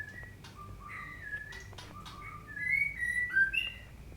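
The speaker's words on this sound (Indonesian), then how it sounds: "agak rame karena banyak burung-burung yang lagi berkicau." Several birds chirp and whistle in a quiet outdoor setting, the calls growing louder and more frequent toward the end.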